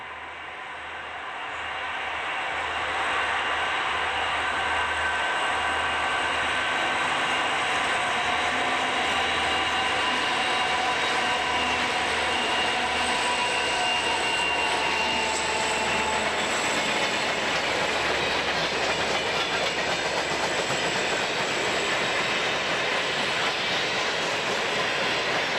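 B&O westbound freight of empty cars running through Piedmont, Maryland in snowfall, a continuous rattle and clank of wheels and cars that swells in and holds steady, with a long squeal over the rolling noise.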